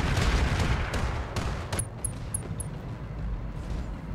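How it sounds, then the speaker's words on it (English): Hellstorm artillery firing in the video game Roguetech, heavy booming shots in a rough sequence over a low rumbling battlefield backdrop, loud at first and easing off, followed by a few faint electronic beeps. "And the Hellstorm artillery is ready to fire once again."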